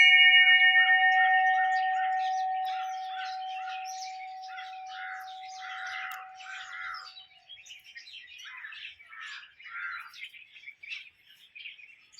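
A crow calls near the Kaal Bhairav shrine in the Girnar hills, mixed in with a run of bright chirps and harsher squawks that carry on steadily for several seconds, with a sustained tone underneath at first and no talking.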